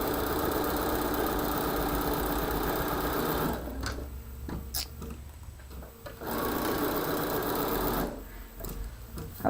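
A sewing machine stitches a Winter Star quilt block in two steady runs of rapid mechanical whirring, pausing briefly between them, heard up close and alone.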